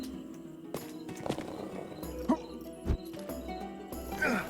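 Horse hooves clip-clopping in the Rustler video game, a loose uneven walking rhythm with a whinny near the end, set against background music and game sounds.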